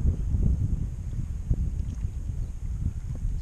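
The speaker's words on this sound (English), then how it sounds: "The wind's picking up" Wind rising over open water while fishing near Dulac, Louisiana, heard as a steady low rumble and buffeting against the microphone, fairly loud and continuous, with no one speaking.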